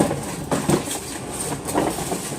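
A child's toy train runs along with a steady clickety-clack rattle, close by and fairly loud, with a few brighter knocks mixed in and no voices over it.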